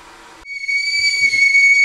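A tea kettle whistle rises to a steady, shrill, piercing tone that holds loud and continuous after a brief burst of bubbling noise.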